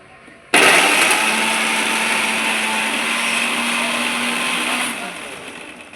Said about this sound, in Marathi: चला आता आपण बारीक करून घेऊया